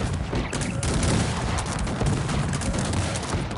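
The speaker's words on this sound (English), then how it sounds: "Look at that, the multi-barrel cannon is absolutely obliterating everything." Rapid, dense gunfire rattles continuously from a multi-barrel cannon in Cossacks 3 multiplayer, a sustained barrage of heavy weapon fire with explosions blending into a constant roar.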